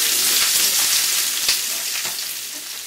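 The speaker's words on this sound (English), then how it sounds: "I'm heating in the frying pan, and to that I'm going to add 1 small onion chopped." Steady sizzling and crackling of chopped onion frying in hot oil in a frying pan, close and loud, with a few soft pops as it settles slightly quieter.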